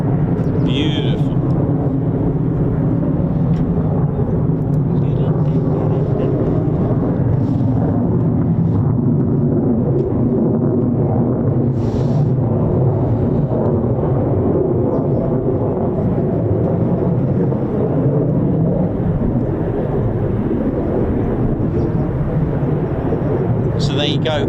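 An F-35 fighter jet passes overhead at an air force base, a loud continuous broadband roar that swells and lingers, with people talking and exclaiming over it.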